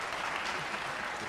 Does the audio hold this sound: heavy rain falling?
no